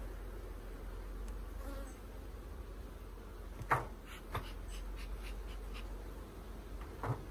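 A low, steady honeybee buzz hums throughout at an opened hive, with a few faint clicks and soft knocks rising briefly above it.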